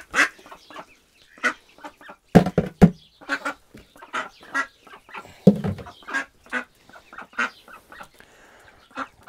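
Repeated loud duck quacks in quick bursts, several farm ducks calling close by with short pauses between calls.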